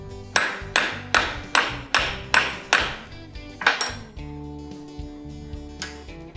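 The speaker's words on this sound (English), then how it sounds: "Punch that shape out." Around eight sharp, evenly spaced hammer blows ring out as a punch drives a small round gasket disc out of sheet material during a toy steam engine restoration, followed by lighter metallic taps and clinks.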